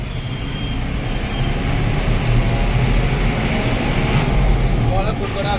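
An SLGT Travels AC sleeper bus, a BS4 model, rumbles with a steady low engine drone and road noise as it departs Amalapuram, with a person talking over it.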